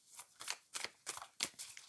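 Tarot cards being shuffled by hand, several quick papery riffles and slides in uneven bursts, close and fairly quiet with no talking.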